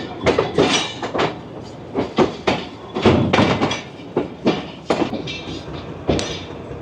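Train at a Pakistani railway station with a locomotive leading a coal hopper freight, heard as loud, close clanking and rattling of wagons with irregular metallic knocks and rumble throughout.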